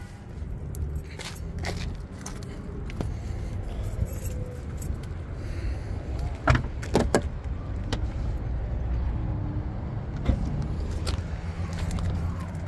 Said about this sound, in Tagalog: Pipindutin ko lang po yung pinto. Ayan, magbubukas na po siya.